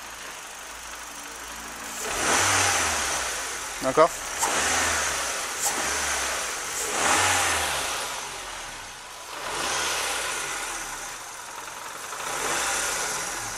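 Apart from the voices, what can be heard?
Nissan Micra K12 1.4 engine revving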